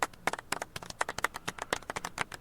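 Crowd clapping and applause from the PGA Tour 2K23 golf video game, a fairly faint, steady patter of claps with no talking.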